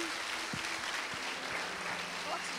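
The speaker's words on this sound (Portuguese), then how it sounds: "Aplauda o Senhor" A church congregation applauding the Lord during a service, steady dense clapping with a few louder claps and a low sustained tone beneath, with voices audible in the crowd.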